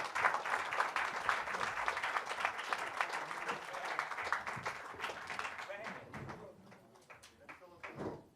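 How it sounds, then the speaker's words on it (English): An audience applauding at a UFC 166 post-fight press conference, a steady patter of many hands clapping in a hall that thins out toward the end, with a voice speaking over it. "Everybody clap it up for Cain."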